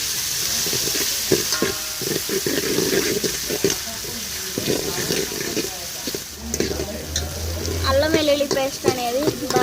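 Onions and green chillies frying for chicken curry, a constant crackling sizzle with repeated scraping strokes of a spoon in the pan, and a voice talking softly over it near the end.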